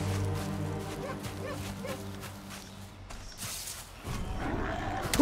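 Dogs in the Valheim video game bark and yip in short bursts, fairly faint and close together over a low game ambience, followed by a sharper clatter near the end.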